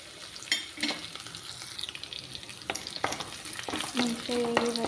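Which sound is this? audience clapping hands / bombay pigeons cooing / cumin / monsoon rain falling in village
cumin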